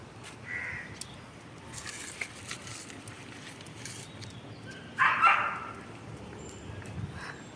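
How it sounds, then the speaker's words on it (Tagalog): Several dogs bark outdoors in the morning, scattered barks and yips at a moderate distance, with a louder burst midway and crows cawing in the background. "Gulo ng mga aso."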